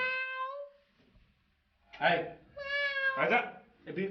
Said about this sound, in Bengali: বিড়াল বিড়াল তো সরো তো